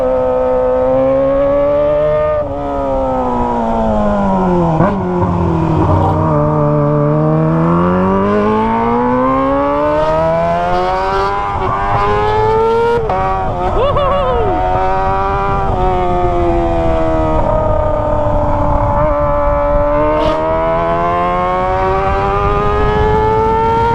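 A Kawasaki ZX25R motorcycle fitted with a Toce exhaust revs hard through repeated rising and falling screams, loud and close, with sharp gear-change dips and shrill high-rpm wails throughout.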